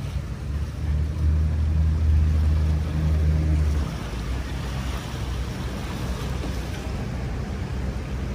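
Sea noise along the Manila Bay baywalk, a steady broad rushing wash of waves with a low engine-like hum in the first half and some wind buffeting on the microphone.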